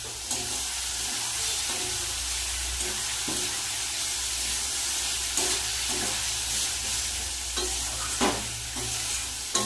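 Ground spice paste fries in a pan for crab curry, giving a steady close sizzle with intermittent scraping clicks as it is stirred, alone without talk.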